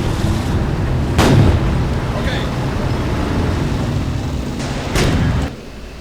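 In the Sudden Strike 3 World War II strategy game, two heavy artillery or gun blasts boom a few seconds apart over a constant rumbling battle ambience, with a voice talking underneath.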